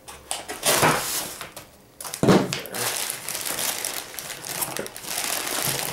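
Tape being cut and torn off a large brown cardboard box: scratchy crinkling and ripping bursts, close up, with a brief pause before more tearing.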